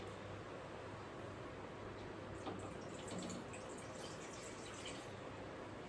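Water runs into a kadhai (wok) in a home kitchen, a soft continuous pouring and trickling wash with a few faint splashy drips, quiet and close.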